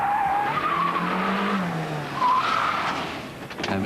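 A racing car skids through a handbrake turn during a timed driving test, tires squealing in long wavering screeches over a steady engine roar, with a second squeal rising midway.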